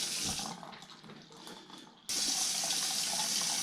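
Hot water running from the gray tank valve of an RV into a collapsible bucket, a loud, steady rushing pour that eases briefly before surging back strongly, close by, with no talk.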